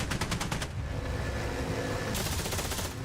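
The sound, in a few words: aircraft machine guns firing in video game DCS World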